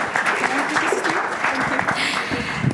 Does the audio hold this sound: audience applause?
yes